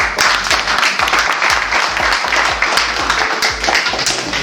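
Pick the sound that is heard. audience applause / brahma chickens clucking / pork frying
audience applause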